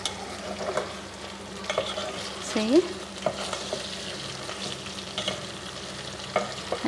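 Vegetables are stirred into potato slices frying in a pan for aloo katli, giving a steady sizzle with repeated scraping strokes. A voice speaks briefly underneath.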